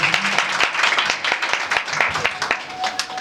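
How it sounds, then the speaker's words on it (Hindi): A church congregation claps to welcome a pastor, a moderately loud round of many hands with sharp individual claps standing out, and faint voices mixed into the clapping. "जोर से ताली मार के इनका स्वागत करें।"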